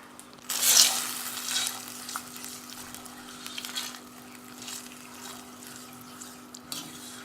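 Chakalaka ingredients cook in a pan while being stirred. A burst of loud sizzle as they go in settles into a softer, ongoing frying hiss with occasional spoon scrapes, close by.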